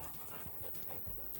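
A dog pants in quick, soft breaths during a walk, faint and close, with no voices.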